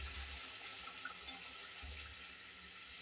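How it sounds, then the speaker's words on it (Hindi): Water poured into a cooking pot of browned lauki gosht (mutton with bottle gourd) to make the broth, a steady close rushing pour that runs continuously throughout with no talking. "अब इसके अंदर मैं पानी ऐड करूंगी, जितना हमें शोरबा रखना है उतना मैं पानी ऐड करूंगी इसके अंदर।"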